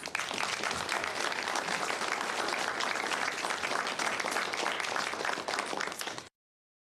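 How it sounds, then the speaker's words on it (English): A crowd of Packers Fan Hall of Fame finalists and guests applauds themselves, a thick, even wash of clapping held for about six seconds before cutting off abruptly. "Give yourselves a round of applause"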